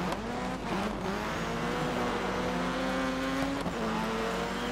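Race car lapping in the rallycross video game Dirt 3, a loud continuous engine drone with rising and falling pitch through gear changes, close and unbroken with no talk.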